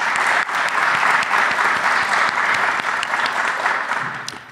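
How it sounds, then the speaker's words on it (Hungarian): Dense, steady audience applause at the final of a Hungarian poetry festival, sustained and fairly loud for the whole stretch before tapering slightly at the end, with no talking over it. "Szerintem egy tapsot megérdemel az Ildikó és a munkájából."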